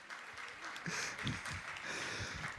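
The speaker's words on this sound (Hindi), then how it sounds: "तो मैं चाहता हूं हम सब गुणायतन परिवार हमारे होने वाले साजी के लिए एक बार तालियां बजा दे।" An audience of the Gunayatan community at Shikharji, Jharkhand applauds, a moderate, continuous patter of clapping with some low murmuring underneath.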